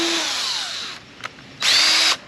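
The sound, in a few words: small drill bit drilling fiberglass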